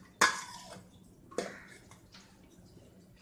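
Lids clank down twice on pots of freshly cooked raw-banana poriyal and payasam prepared as Thai Poosam fasting food; two sharp metallic knocks about a second apart, each with a short ringing tail, then quiet room tone.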